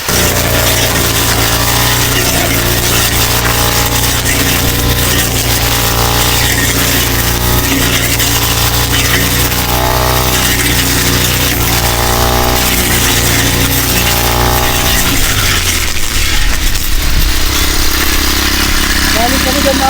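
Small grass cutter engine running steadily on a farm near bamboo, a loud continuous drone with harmonic buzz that shifts pitch and drops off near the end, with people talking over it.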